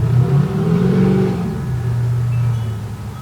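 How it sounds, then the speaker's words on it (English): A loud motorcycle engine roars and revs as it passes close by, its pitch shifting as it goes, with a steady rumble continuing after. "People just coming down here on motorcycles."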